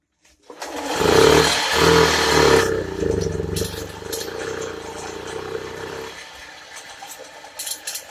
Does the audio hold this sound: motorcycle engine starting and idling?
yes